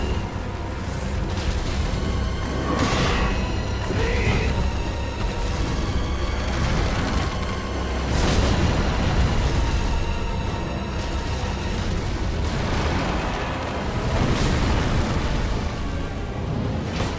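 A tree boss in Dark Souls 3 throws fruit bombs that burst in a dense, continuous barrage of heavy, booming explosions, loud and close, with rumbling low end and occasional sharper pops layered over the roar.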